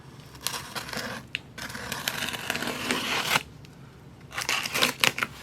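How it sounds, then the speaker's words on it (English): A utility knife slices open a cardboard shipping box holding a beard trimmer kit, with steady scraping and tearing crackle broken by short pauses and a burst of sharp cuts near the end, close and moderately loud, no talking. "Being very careful not to cut deep with the utility knife here."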